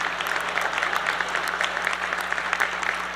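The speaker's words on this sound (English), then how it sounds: "Only the smart people are clapping" An audience applauds during a speech, a steady even patter of many hands at moderate volume that holds throughout with a low electrical hum underneath.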